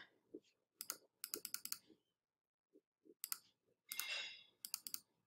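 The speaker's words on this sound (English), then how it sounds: "Let me start typing this in" Quiet clicking of a computer keyboard as data is typed in, arriving in short uneven bursts of keystrokes separated by pauses, with no talking.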